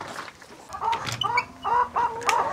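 Chickens in a grower house cluck and squawk nearby in short, uneven bursts, several birds calling over one another against a soft background hum.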